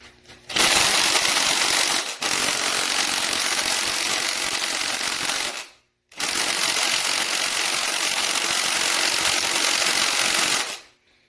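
A cheap $80 cordless impact wrench, working on a small-block Chevy 350 engine teardown, runs in two long continuous bursts with a brief stop between, a loud steady buzzing whir close by.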